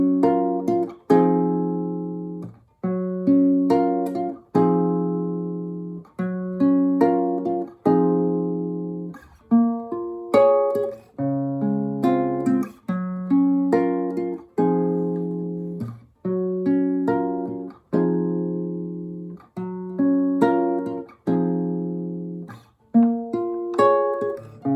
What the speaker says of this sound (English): I gotta learn how to play this because the guitar part is pretty nice.